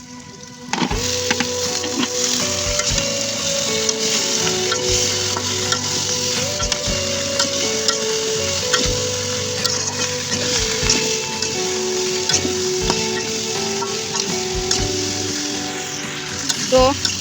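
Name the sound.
vegetables frying with spices in a pan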